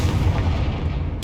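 Confringo spell explosion in Hogwarts Legacy, a short heavy boom with a low rumbling tail, close and loud, with no talking.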